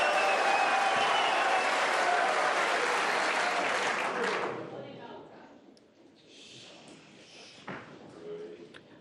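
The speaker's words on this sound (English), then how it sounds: "Crowd getting a little overexcited, understandably." A crowd in the arena at the 2024 World Snooker Championship final breaks into loud, sustained applause. It dies away after about four seconds into quieter murmurs and a few scattered thumps.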